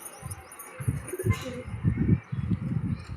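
Domestic pigeons in a breeder's loft coo in a run of low, throaty, repeated pulses, close and fairly loud, with a faint higher chirp over a steady background hiss.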